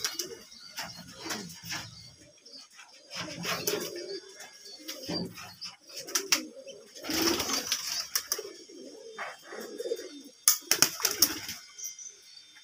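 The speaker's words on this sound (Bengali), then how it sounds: "পাশের বাড়ির অন্যান্য কবুতর আসে, কবুতরগুলো উঠে দেয়" Pigeons visiting from a neighbouring house coo in soft, repeated low bursts near a cat, with occasional wing flaps and a few chirps, the calls coming in clusters with pauses between.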